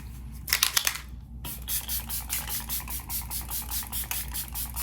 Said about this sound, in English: I'm gonna go with my setting spray.